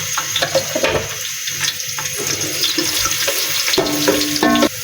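Milk pours into a hot pan holding fried coconut, almonds, raisins and dried dates, a steady close wash of liquid and sizzle with a few clinks near the end and no talk.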